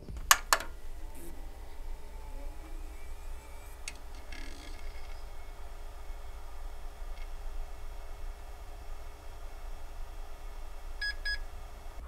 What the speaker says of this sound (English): It's making a double beep after it goes through startup diagnostics